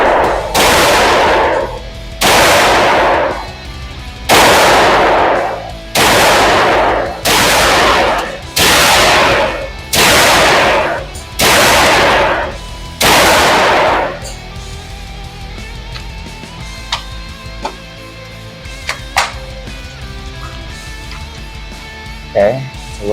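Pistol shots fired at a range, about ten loud, evenly spaced cracks each with a short echoing tail, followed by quieter handling clicks and light background noise once the shooting stops.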